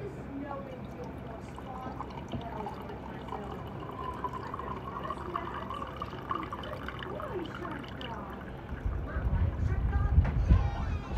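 Wine at room temperature pours into a self-warming mug, a soft steady trickle under a low background rumble, with a heavier burst of handling noise near the end.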